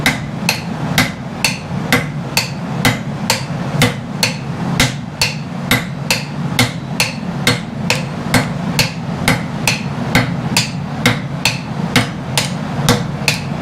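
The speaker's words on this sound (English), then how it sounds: "Swing that hammer." Blacksmith's hammer striking a hot blade on an anvil during bladesmithing, a steady run of loud, evenly spaced ringing blows, about two per second, close by with no talking.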